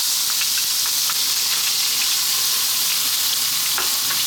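Chili sizzles in hot sunflower oil in a wok, a steady close-up frying hiss with small crackles and pops throughout, no voices.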